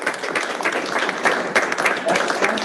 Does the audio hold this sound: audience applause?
yes